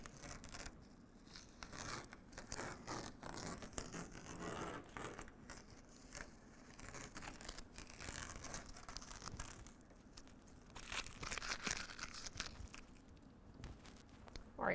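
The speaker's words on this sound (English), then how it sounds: "now we can go ahead and also peel away our masking tape" Masking tape being peeled away from a Mitsubishi L200 hood during a hood deflector install, quiet crinkly tearing and scraping in repeated short pulls, close and faint, with no talking.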